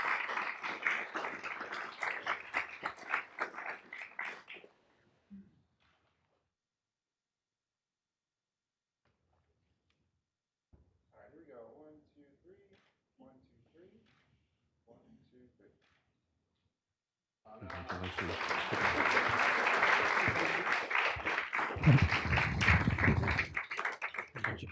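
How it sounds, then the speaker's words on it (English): An audience at a city council meeting applauds a student scholar, with two bursts of steady clapping, one brief and one longer, separated by near silence and a few soft sounds. "let's give Islana a big round of applause as our Jackie Scholar number 2"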